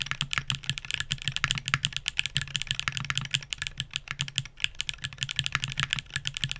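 Hall effect mechanical keyboard switches clatter under fast continuous typing, a dense close stream of crisp clicky keystrokes with a deeper thock underneath and no voices.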